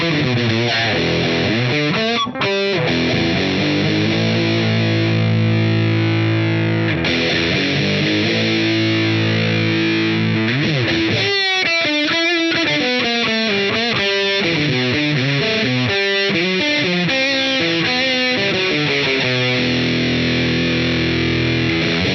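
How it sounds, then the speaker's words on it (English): An electric guitar runs through a Big Muff and a Keeley Angry Orange fuzz pedal, playing thick, sustained distorted notes and lead runs with a short pause near the middle, loud and alone with no talking. "we're going to hear the Muffside, the Angry Orange"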